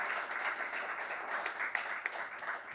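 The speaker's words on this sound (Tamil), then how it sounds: "அவருக்கு ஒரு பலத்த கைத்தட்டலை நாம் பரிசாக கொடுக்கணும் அப்படின்னு நினைக்கிறேன்" Dense, even applause from an audience at a Tamil literary awards ceremony, a steady wash of many hands clapping at moderate distance with no talking.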